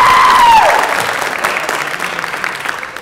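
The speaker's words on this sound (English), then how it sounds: "Yes, you can applaud for them." Audience at a university marching band event claps steadily after a short tone fades, the applause loud at first and then settling slightly, sustained without speech.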